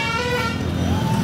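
Vehicles roll past at a night fair, a steady traffic rumble carrying a loud, close horn blast that sounds almost continuously over the engine noise.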